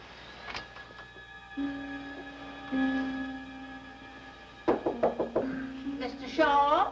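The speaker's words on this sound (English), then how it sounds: "You told me to knock when it got dark tonight in case you was asleep" Several quick knocks on a door land in a tight cluster close by, amid sparse background music, with brief speech breaking in around them.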